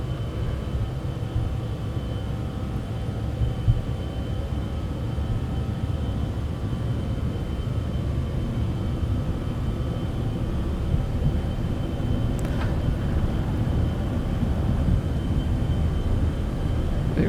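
Steady, even roar of Citation X jet engines spooling at takeoff power in a flight simulator, a continuous broadband rumble with a faint high whine, no voices.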